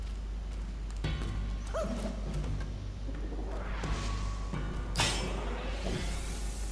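A pet dog in a room barks and yips a few times, sharp bursts spread across the span against a low steady hum and game sounds.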